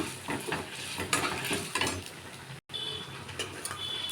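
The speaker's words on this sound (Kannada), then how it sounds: "ಕರಿಬೇವಿನ ಸೊಪ್ಪು, ನೆಕ್ಸ್ಟ್ ಒಂದು ಸ್ವಲ್ಪ ಕೊಬ್ಬರಿ ಹಾಕಿ ಒಂದು ಸ್ವಲ್ಪ ಫ್ರೈ ಮಾಡೋಣ" Curry leaves, grated coconut, cumin and pepper fry in a pan, with a soft sizzle broken by scattered stirring clicks and scrapes. A brief dropout falls midway, and no voices are heard.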